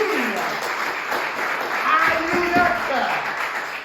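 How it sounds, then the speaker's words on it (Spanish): Church congregation applauding during a Spanish-language sermon, loud, sustained clapping from many people, with voices calling out over the clapping. "¿Le puede dar un aplauso a Jesucristo?"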